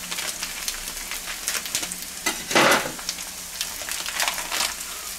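Bacon sizzling in a frying pan: a steady crackling hiss with scattered pops, one louder burst of spattering midway, heard without talk.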